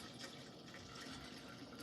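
Homemade pomegranate juice mixed with water pours steadily into a jar, a continuous soft liquid gush and fill with no talking.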